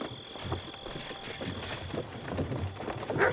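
Horses trotting in Kingdom Come: Deliverance 2, a steady run of hoof clip-clops at moderate distance over a faint game ambience, with a brief stronger burst near the end.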